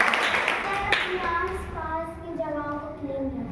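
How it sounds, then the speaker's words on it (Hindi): A class of schoolchildren claps for a student, a brief burst of loose, close clapping at the start that fades into a teacher's voice talking over the room. "ताली बजाइए आर्यन के लिए"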